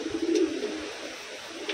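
Wantai racing pigeon cooing close by, a short, soft, throaty coo near the start, followed by quieter low murmurs.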